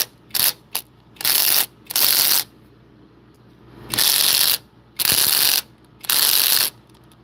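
A ratchet working a very tightly fastened part, close bursts of loud, rapid clicking in about eight separate strokes, some short and some lasting around half a second, with pauses between and no talking.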